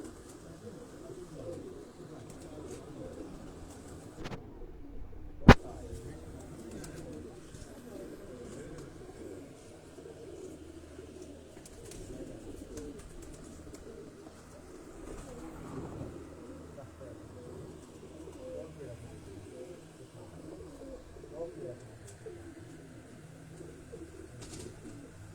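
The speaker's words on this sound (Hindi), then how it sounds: "ये पुराने डब वाले कबूतरों में ये सिलसिला आता है" Old dub-breed pigeons cooing softly in a low, continuous murmur, with a single sharp knock near the start and someone talking over the birds throughout.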